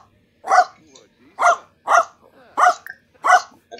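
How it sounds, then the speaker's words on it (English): A dog in The Sims 4 life-simulation game barks five times in clear, evenly spaced, loud yaps against a quiet background. "White Fang, no barking"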